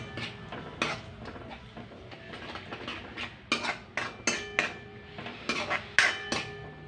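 A spoon stirs curd into a capsicum and potato curry in a metal pan, giving a run of clinking, scraping knocks that grow busier and sharper toward the end, close and without speech.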